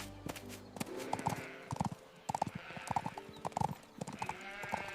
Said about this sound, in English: When the king's carriage rolled by